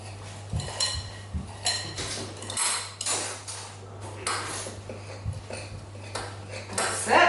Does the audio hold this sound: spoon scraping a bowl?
yes